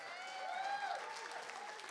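Crowd applause in a live music venue at the Charlotte Street Arts Centre: a soft, steady wash of clapping, fairly distant, with a few faint voices mixed in.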